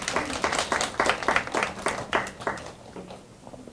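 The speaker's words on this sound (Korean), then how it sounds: "큰 박수로 맞이해주시면 감사하겠습니다." An audience claps at a lecture for aspiring youth counselors as a guest speaker is welcomed; moderate, scattered applause from a modest crowd that thins out and fades after about three seconds.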